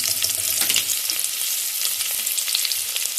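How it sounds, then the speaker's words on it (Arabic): Chopped onions frying in a couple of spoons of oil in a cooking pot make a steady, close, dense sizzle. Occasional stirring scrapes sound over it, and no one speaks. "راح حاطه البصل عليه"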